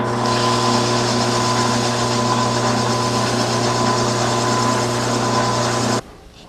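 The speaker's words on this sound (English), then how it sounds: "and finish sanding the bottom." Sanding the bottom of a turned wooden piece on a lathe makes a loud, steady hum and continuous abrasive rasp that run unbroken for about six seconds, then stop abruptly.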